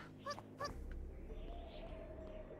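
A kitten in the video game Little Witch Nobeta gives two short, high meows in quick succession, followed by a soft, droning game ambience.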